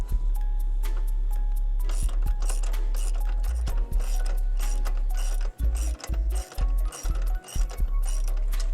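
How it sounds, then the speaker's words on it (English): A ratchet with a 17mm socket loosens a shock bolt on a Roadrunner Pro, giving close, rapid metallic clicking in repeated bursts with short pauses between strokes. "get your 8mm hex key, put it right here in the back, and then your 17mm socket, and have it here, and start loosening."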